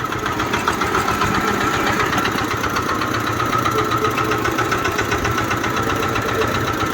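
A Giriraj nano tractor's engine runs steadily while the tractor drives in reverse. The close, continuous mid-pitched chug has a knocking, vibrating edge and no voices.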